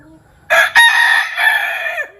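A very large Turkish Sultan rooster crows close by on a farm, one loud drawn-out call that breaks briefly and carries on for about a second and a half before trailing off.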